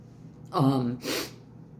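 A voiced intake followed by a sharp, hissing burst, like one sneeze, close and fairly quiet, with silence after.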